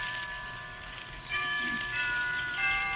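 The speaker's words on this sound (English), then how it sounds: "Why don't we both just sit here and listen to the chimes for a while?" Bell chimes ring out in a classic radio drama, a steady layer of sustained metallic tones with new strikes swelling in twice over a soft background, with no voices.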